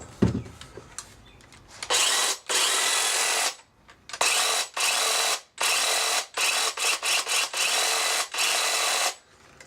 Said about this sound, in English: So doesn't sound particularly fast when I run it.